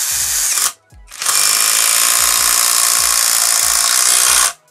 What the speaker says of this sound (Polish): ta zakrętarka jest na tyle silna, że śmiało tutaj mamy spory zapas